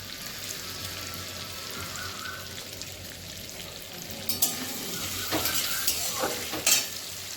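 Spice-coated ingredients for a vegetarian biryani fry lightly in a pan over medium heat, with a soft continuous sizzle and occasional sharp utensil clinks and scrapes growing louder near the end.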